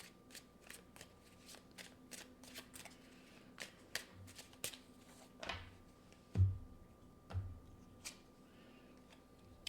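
Tarot cards being shuffled and drawn at close range, a steady run of soft, quick riffling flicks with a few louder slaps and thumps as cards are set down, in a quiet room with no talking.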